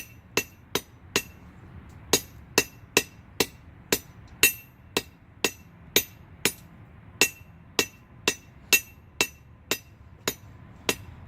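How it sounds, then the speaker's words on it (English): A blacksmith hammers metal on an anvil while forging a J hook: about twenty sharp, ringing blows land close by in a steady, slightly uneven rhythm, with brief pauses and no talking. "Gotta remember to let the hammer do the work."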